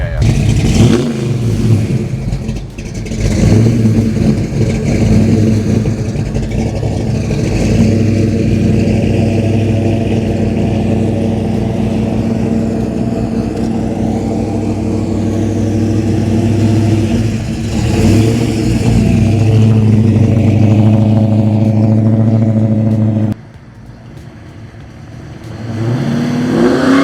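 A 1966 Plymouth Satellite with a 426 Hemi V8 roars past in a loud, sustained flyby, its deep engine note building and holding for about twenty seconds before dropping off sharply as it pulls away.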